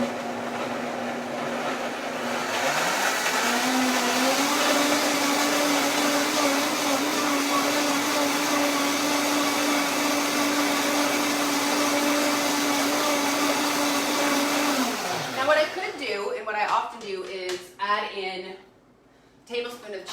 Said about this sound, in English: I'm gonna put that in my blender and I'm just gonna blend.